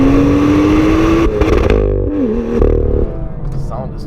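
A 2016 BMW M2 with a manual gearbox revs its engine loudly and close, the tone rising steadily then dropping with a gear change and climbing again, while someone talks over it throughout.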